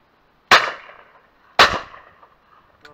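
Two sharp, loud shotgun blasts about a second apart while decoying pigeons outdoors, each one fading off quickly, then a faint small knock at the end.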